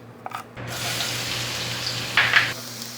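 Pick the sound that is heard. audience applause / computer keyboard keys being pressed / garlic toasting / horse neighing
garlic toasting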